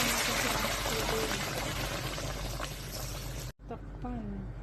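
Water pours into a cooking pan holding dried rice sticks, a steady rushing stream filling the pan for a few seconds before cutting off abruptly, followed by quieter kitchen sounds and a voice.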